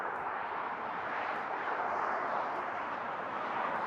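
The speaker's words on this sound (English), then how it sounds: "there are many cars going behind me at 75 miles per" Dense traffic rushes past continuously on a busy freeway at about 75 miles per hour, a steady broadband roar with no gaps.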